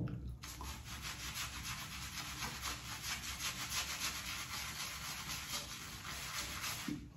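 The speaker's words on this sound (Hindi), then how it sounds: "Let's create the lather." A Blue Monster shaving brush whips PinkWoolf shaving cream into lather with fast, wet, rhythmic swishing strokes, close and steady throughout, with no voices.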